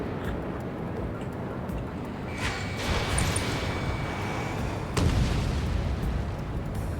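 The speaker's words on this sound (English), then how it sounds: "H2, missile launch." A missile launches in the Ace Combat 7 jet combat game with a deep rumbling whoosh over constant engine roar, followed by a sharp booming burst a couple of seconds later, all dense and loud without talk.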